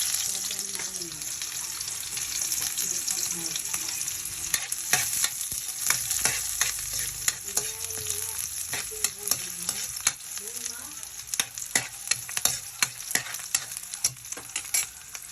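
Garlic, then onion, sautéing in a pan for mung bean stew, a bright continuous sizzle broken by frequent clattering spatula strokes that grow busier toward the end, with a faint voice at times.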